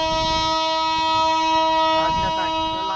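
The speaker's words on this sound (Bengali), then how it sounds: "সৈকতনগরীতে বাজলো ট্রেনের হুইসেল, ঝিকঝিক শব্দ করে যাত্রা শুরু হলো ঐতিহাসিক রেল যাত্রার" Train on the new Chattogram–Cox's Bazar rail line sounding a loud, sustained whistle with strong steady tones, with rumbling running noise underneath and a brief burst of crowd voices near the end.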